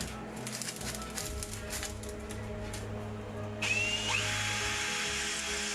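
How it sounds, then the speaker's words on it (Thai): A power drill bores pilot holes for rivets into the sheet metal of a biomass cookstove, giving a steady whirring whine that turns harsher and louder partway through. No voices are heard. "เจาะด้วยสว่าน นำ แล้วตามด้วยลูกรีเวทในการเย็บ"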